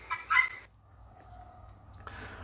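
Guinea fowl letting out one short, harsh, grating call right at the start, followed by near quiet with only a faint background hum.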